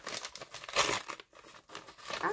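A large paper envelope being torn open and handled, with crinkling and ripping bursts of paper, close and fairly loud, with no voices over it.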